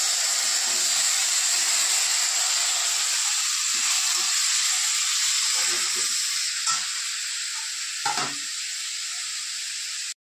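Tomatoes and carrots sizzle steadily in a hot frying pan, a loud continuous hiss that stays even throughout, with a couple of brief clatters near the end and no talking.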